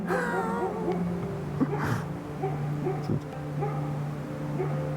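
A dog barks and whimpers in short yips and whines, fairly close, with some low background hum.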